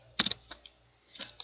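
Quick clicks of computer keyboard keys as a short command is typed during a LAN setup, a tight cluster of crisp taps followed by a pause and a few more, close and fairly quiet, without talk.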